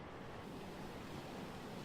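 A flooded downtown creek in Tahlequah, Oklahoma, running high after a heavy storm, heard as a steady, dense roar of rushing water with no break, loud and close, mixed with some wind noise.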